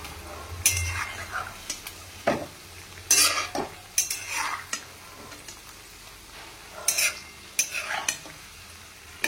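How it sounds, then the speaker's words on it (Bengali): Fritters (bora) sizzling in a pan while being flipped one by one, a soft steady fry punctuated by irregular scraping and clinking bursts of the utensil against the pan, close and moderately loud. "এবার এটাকে আমি উল্টে দেব।"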